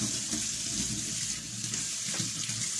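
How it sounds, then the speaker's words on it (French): Running tap water pours steadily into a colander at a kitchen sink, a close, continuous rushing splash with no talk over it. "rincer ma passoire"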